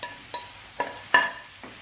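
Paneer curry with tomatoes cooking in a pan over a high flame, heard as a few brief stirring scrapes and soft sizzling bursts spaced about half a second apart, fairly faint and close.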